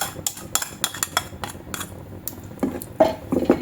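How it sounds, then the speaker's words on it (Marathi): Curd being stirred into an onion-tomato masala for bhindi masala, with quick clinks and scrapes of a spoon against the pan in a busy rhythm, close and with no voice. "व्यवस्थित मिक्स करून घ्यायचंय"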